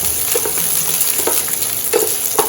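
Ingredients for chutney rice sauté in a pan, a loud, close, continuous sizzle with repeated scraping strokes of a stirring spoon.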